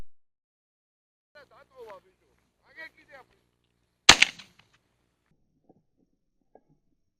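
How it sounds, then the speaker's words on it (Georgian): A single sharp shotgun blast rings out during a quail hunt in open country, loud and sudden after quiet moments with brief speech from the hunters. "გადასარევი გასროლა იყო"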